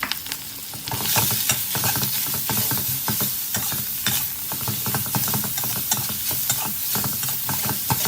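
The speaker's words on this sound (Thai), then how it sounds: "ผัดให้หอมนะครับ ตามด้วยเนื้อ สับ ครับ" Minced beef stir-fried in a hot pan with aromatics, a loud, continuous sizzle with rapid scraping and clattering spatula strokes throughout, no voices.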